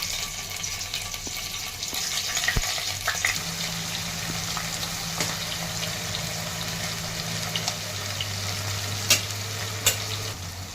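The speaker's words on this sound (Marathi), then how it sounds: "आता हे पनीर फ्राय करून चालू फ्राय करून घ्यायचं" Paneer pieces fry in a pan with a continuous close sizzle and crackle, joined by a low steady hum and occasional sharp clicks of a spoon against the pan.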